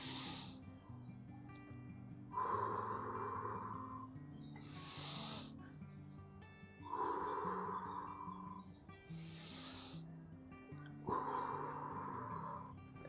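Slow, deep breathing during a breathing exercise for recovering COVID patients, with long drawn breaths repeating in a steady cycle roughly every four to five seconds, close and soft over quiet background music.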